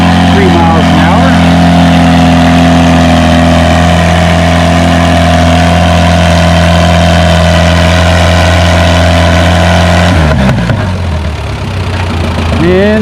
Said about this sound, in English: And Alice Chalmers CA with Samantha at the wheel is back on the sled